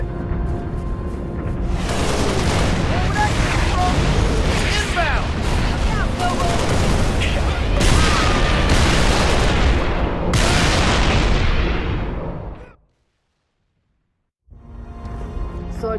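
An artillery barrage in the video game Halo Reach: a dense, loud run of overlapping blasts and gunfire lasts about eleven seconds, drops into brief silence, then starts again.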